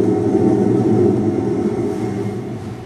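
Breath blown into the built-in condenser microphone of a cassette recorder, a close, steady, rumbling roar of wind noise lasting about three seconds and fading slightly toward the end.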